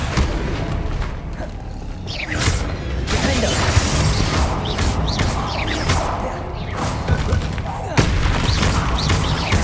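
Bombarda spell explosions in Hogwarts Legacy come as a dense barrage of booms and crashes amid ongoing combat, loud and continuous, with voices shouting spells over the chaos.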